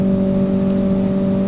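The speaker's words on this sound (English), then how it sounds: "the main thing I wanted to accomplish was to push the volume of the exhaust up beyond the wind blast" A Kawasaki ZX4RR motorcycle fitted with a loud slip-on exhaust, a steady, droning engine note with strong tonal hum held at constant volume, close and without speech.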